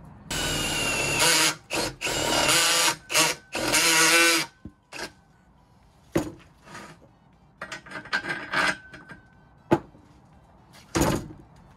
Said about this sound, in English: So we're gonna drill these to 5/8 and then bolt it on as is.